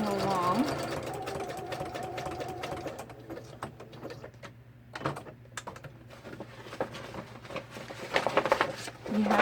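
A sewing machine stitching vintage wallpaper into envelopes, its rapid mechanical chatter running in bursts with brief pauses, close by, while a person talks over parts of it.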